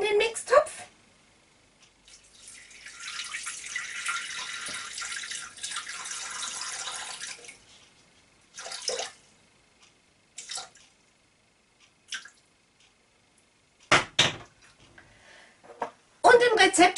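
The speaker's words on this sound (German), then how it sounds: "Dann fülle ich jetzt 250 Gramm Wasser in den Mixtopf." Water pours into a Thermomix mixing bowl, a soft splashing stream lasting a few seconds, followed by quiet handling noises and brief talk.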